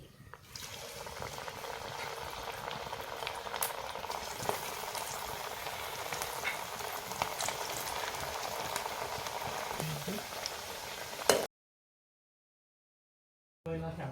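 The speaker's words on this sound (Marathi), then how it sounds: "आता हे राहिलेले वडे आपण सहज परत तळून तळून घेऊ" Onion bhaji fritters deep-fry in hot oil with a dense, continuous bubbling hiss, close and steady for about eleven seconds before dropping to silence and briefly resuming.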